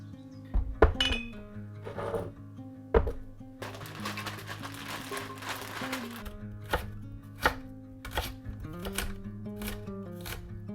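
Homegrown onions, some of them very large, chopped with a knife on a board in a home kitchen: a run of sharp, uneven cuts with light clinks, close and clear with nobody talking.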